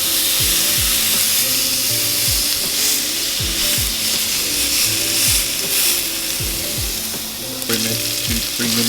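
Steak sizzles in a pan with butter, a loud, steady frying hiss close by, broken by repeated scraping and clicking knocks as the meat is moved around.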